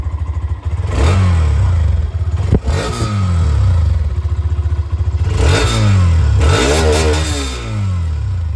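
A 125cc motorcycle engine, Bajaj Pulsar NS125 or Hero Xtreme 125R, idles with a deep, steady rumble through an underbelly exhaust, then is revved hard several times, each rev rising and falling back to idle.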